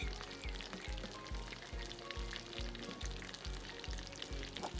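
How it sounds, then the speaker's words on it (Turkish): French fries sizzle steadily in hot oil in the cooking game Kebab Chefs Restaurant Simulator, a continuous crackling hiss with a soft repeating low thump underneath. "patates kızartmasını"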